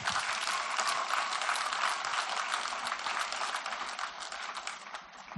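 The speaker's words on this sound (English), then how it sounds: "If you're wondering who's clapping, they're all in J-Kids." Children in a church kids' group clap and applaud, a dense, continuous patter of many small hands that holds steady and loud throughout.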